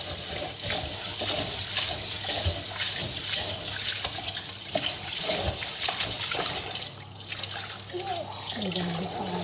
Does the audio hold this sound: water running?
yes